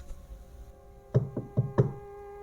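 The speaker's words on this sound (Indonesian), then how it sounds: "Terdengar suara ketukan pintu depan dan terdengar suara memanggilku." Knocking on a wooden front door at night, a short burst of four fairly close raps in uneven rhythm after a quiet pause, alone with no voices.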